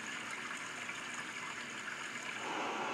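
Stream background sound played from an iPhone 14: steady, bright rushing water with a continuous trickling texture, alone and even in level throughout.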